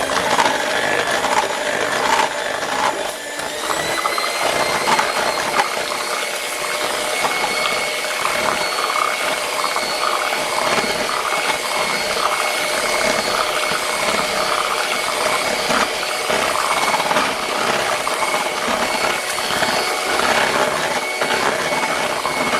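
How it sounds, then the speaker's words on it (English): An electric mixer whips candle wax in a bowl, a steady, close mechanical whir with a rattling, grinding texture that runs continuously throughout. "now you can go back and mix again"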